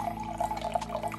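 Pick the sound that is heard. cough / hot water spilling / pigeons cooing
hot water spilling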